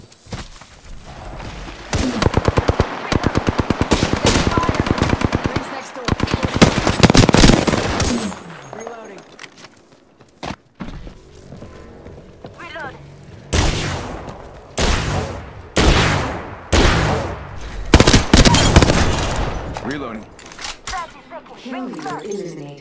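Rapid automatic gunfire from Apex Legends, loud bursts of rattling shots in several volleys separated by brief pauses, with game voice lines spoken in between.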